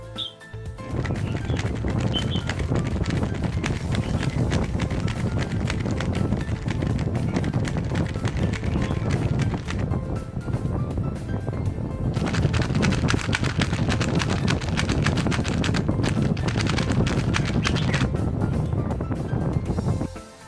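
A continuous rush of rapid plastic clicking and clattering from a GAN 12 Maglev speed cube being turned quickly, close up and fairly loud, with a brief pause midway.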